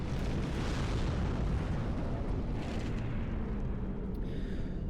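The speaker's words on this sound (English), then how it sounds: "it's a pretty massive explosion, and it can cause friendly fire" A massive unit explosion in the Star Wars WARNO strategy game makes a long, loud rumbling boom that fills the whole stretch and fades slowly, with no voices.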